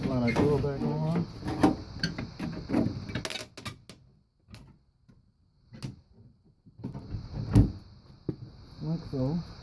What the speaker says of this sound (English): I'm going to slide our door back on.